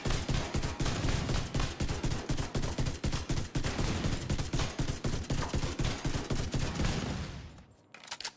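Rapid full-auto fire from a rifle that shoots two bullets per shot in The Division 2, a loud sustained run of closely spaced shots that cuts off near the end, followed by a brief quieter tail.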